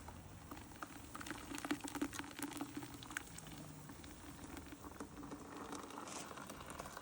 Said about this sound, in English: we're going to pour that through a strainer.